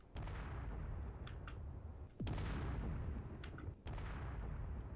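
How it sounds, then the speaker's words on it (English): Explosions from the space-building game Space Engineers: a steady heavy rumble of blasts with sharp cracking bursts and one big boom near the middle, loud and continuous. "that should be the last explosion"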